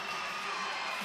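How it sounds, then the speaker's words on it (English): Arena crowd at a college volleyball match in South Bend, Virginia vs. Notre Dame, cheering and shouting in a steady dense roar that fills the whole moment without letup. "The crowd is going crazy here in South Bend."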